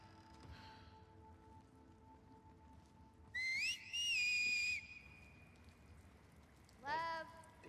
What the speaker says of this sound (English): Damn whistle.